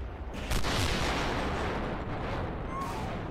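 A doomsday weapon blast destroys an HQ in Roblox Noobs in Combat, a heavy boom followed by a long rumbling roar of explosions and debris that slowly fades, with brief talk in the background.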